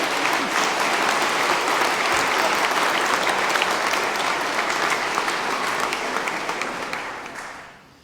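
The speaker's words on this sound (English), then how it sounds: "Now, you can clap." Church audience at a racial reconciliation conversation bursts into loud, dense clapping that holds steady for about seven seconds before tapering away at the end.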